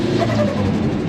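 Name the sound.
turbocharged car accelerating on boost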